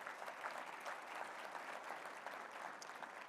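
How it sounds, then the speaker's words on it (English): Applause from a conference audience at a ski area executives' summit: an even, continuous wash of clapping from many hands, heard faint and at a distance with no talk over it. "Give them a huge round of applause."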